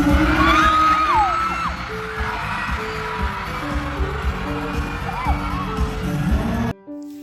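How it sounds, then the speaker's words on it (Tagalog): Fans scream and cheer at a KCC mall show in Marbel, Cotabato for JM Ibarra and Fyang Smith. Shrill whoops rise over a loud, continuous crowd roar, with music playing underneath until it cuts off near the end. "Tuwang-tuwa ang netizens, walang tigil ang hiyawan ng mga ito."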